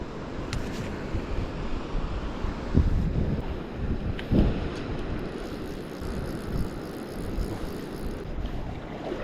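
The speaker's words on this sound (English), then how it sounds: "This wind is making it a bit difficult to get some distance on these casts. It's a bloody headwind straight on" A strong headwind buffets the microphone during a fishing trip in the Australian Alpine near Thredbo, making a continuous, close, low roar with a few louder gusts and no talking.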